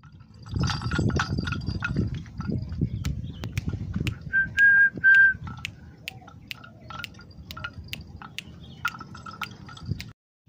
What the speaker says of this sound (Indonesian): Kita akan giring sapi tersebut.